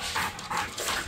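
A female puppy pants hard and out of breath, rapid rhythmic breaths close by with a faint whimpering edge, no talk over it.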